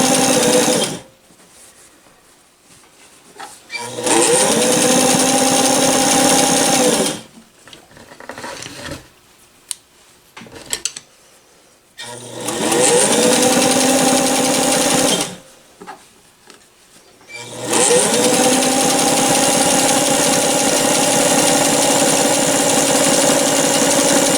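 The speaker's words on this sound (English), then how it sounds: "I can double it over a couple times just to let you see the power of this machine. That's the zigzag." A vintage Singer Fashion Mate 257 sewing machine runs a zigzag stitch through doubled-over cotton, with three long, loud, steady runs of close mechanical whirring and clatter separated by quiet pauses.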